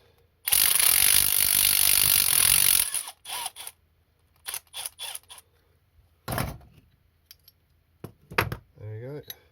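An impact wrench used while rebuilding a Stihl TS350 saw rattles in a loud sustained burst of about two seconds, followed by short clicks, metallic clanks and brief handling noises up close, with a voice briefly at the end.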